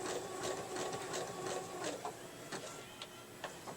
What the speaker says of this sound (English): I'm going to do back stitch to lock that seam in